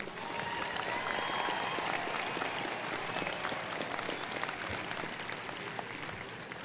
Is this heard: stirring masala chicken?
no